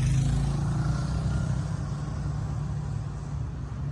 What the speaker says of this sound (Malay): kendaraan berpusu-pusu menuju berbagai arah